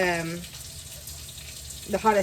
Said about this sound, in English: I've got my water running so that it's hot